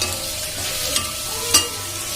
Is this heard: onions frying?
yes